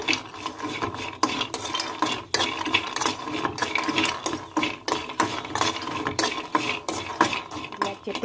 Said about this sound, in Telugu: పల్లీలు అయితే వేయిస్తున్నా